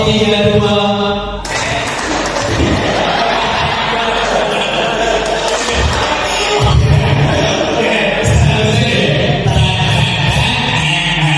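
A room of people at a school teacher training session claps together in a short patterned rhythm, broadband bursts near and fairly loud, with voices and laughter mixed in.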